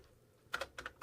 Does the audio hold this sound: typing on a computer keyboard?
yes